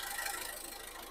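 A 2014 Ford EcoSport Titanium Plus idles with a steady, even hum and a light rattle, fairly quiet and heard alone for just over a second.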